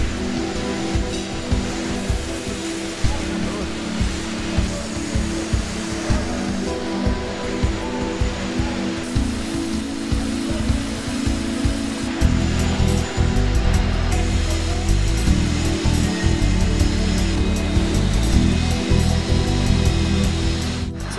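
Welding and cutting areas of the Combilift forklift factory fill the air with a dense industrial drone, with steady buzzing hum, intermittent clanks and a louder, rougher stretch partway through, heard without speech.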